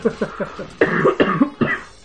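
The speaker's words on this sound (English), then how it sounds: "I'm sorry, I had to cough." A string of short, sharp coughs close to the mic, several quick ones in a row followed by a few heavier, harsher coughs.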